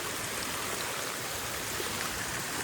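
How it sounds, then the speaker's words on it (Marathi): Monsoon rain and a swollen stream on a fort trek make a dense, constant rushing wash that stays steady and close for the whole stretch, with no voices. "आणि पाऊस पडायला सुरू झाला, त्यामुळे पुन्हा पाणी वाढलेलं आहे."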